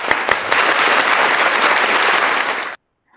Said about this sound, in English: A virtual applause,